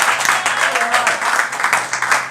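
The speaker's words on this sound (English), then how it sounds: "Give them a round of applause one more time." An audience at a Whose Line-style improv comedy show in St. Pete applauds its finalists, steady close crowd clapping with a few whoops, running loud throughout.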